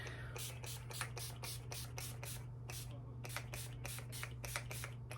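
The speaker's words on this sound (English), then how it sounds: "I drenched my face in this spray" Rapid bursts of a makeup setting spray, many short hisses in quick succession, close by over a low steady hum.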